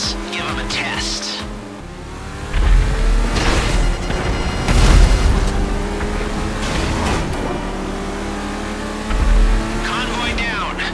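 Vehicle-mounted missiles and guns fire in GTA Online, loud bursts and booms over engine roar, with a sustained tonal drone and repeated explosive hits around the middle and near the end.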